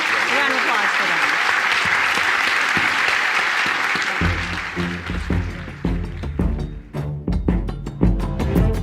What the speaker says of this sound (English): Warm round of applause for them.